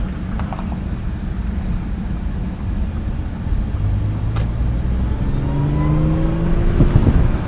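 An Audi S4 engine holds around 4,000 RPM at low road speed while coolant is being bled, giving a loud, steady rumbling drone with rising whine tones as it pulls along, close and continuous throughout.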